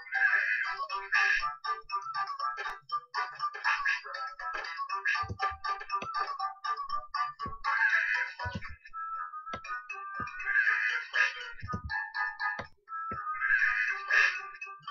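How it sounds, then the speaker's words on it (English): Victory jingle from an Angry Birds-style game project, heard as a bright, repeating electronic melody with short beeping phrases and occasional low thumps, steady and fairly loud with no talking. "We can get the victory sound."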